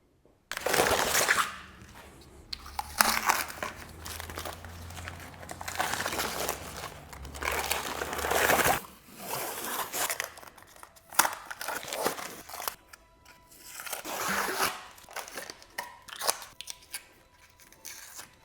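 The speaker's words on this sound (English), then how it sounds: "Let's get this ugly tape off so we can start building this puzzle." Tape is peeled and torn off parts of a Mercedes S65 AMG V12 engine during a rebuild: close, crackling, crinkly rips in several long bursts, separated by brief pauses and quieter handling noises.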